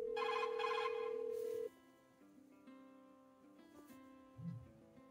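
A phone ringback tone plays while calling one's own voicemail through a BQCC widescreen Android Auto car display, a steady electronic ring that cuts off into faint, low tones and soft background hum.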